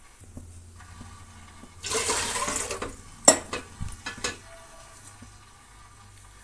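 Water poured from a jug into a cooking pot on a stove, a short splashing gush followed by a few lighter trickles and clanks against quiet kitchen background.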